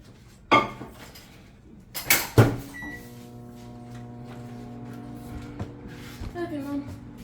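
Cast iron pan handled on a stove while making masa harina recipes, a few sharp metallic clanks and knocks, then a lingering ringing hum and scattered small clinks, close, with voices talking in the kitchen.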